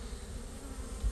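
Honeybee swarm fanning at a hive entrance, a steady, dense insect hum with a low buzzing drone that holds evenly throughout, close and moderately quiet, with no voices.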